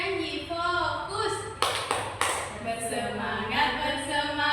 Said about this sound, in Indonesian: Tepuk janji fokus.